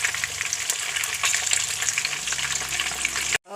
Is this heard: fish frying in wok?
yes